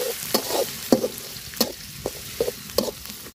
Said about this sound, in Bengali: আর দিয়ে দিব পেঁয়াজ কুচি আর রসুন কুচি। তো বাজা নিব সুন্দর করে মশলাটা।